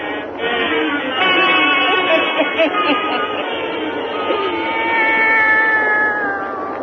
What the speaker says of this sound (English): join old Nancy, Witch of Salem, and Satan, her wise black cat.